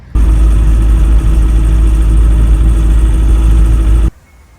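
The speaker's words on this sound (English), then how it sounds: "I gotta drive over to Matt's and rip apart my engine for the second time" A van engine with an idle problem runs loud and steady for about four seconds at close range, a dense low rumble that then cuts off abruptly.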